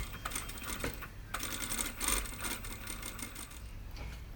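A sewing machine stitches denim for a jeans pocket, running in a steady, close mechanical whir with a rough, scratchy texture while the fabric is swivelled and guided by hand, briefly surging louder near the middle.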